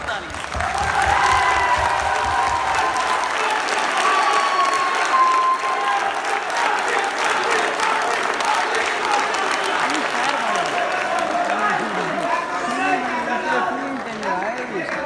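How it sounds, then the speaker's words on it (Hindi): An audience applauds after a poetry recitation with sustained, loud clapping and some cheering. Crowd chatter and voices mix in throughout. "यार आपके लिए भरपूर ताली।"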